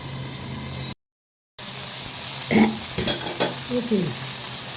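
Eggplant for begun bhaji sizzles and is stirred in a covered pan: a steady frying hiss that cuts out briefly, then returns with scraping and clattering stirring strokes.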